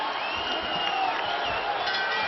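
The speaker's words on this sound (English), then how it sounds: "The crowd are on their feet" Boxing crowd at an individual championship bout cheering and roaring steadily across the arena, a dense sustained wash of voices with no single caller standing out.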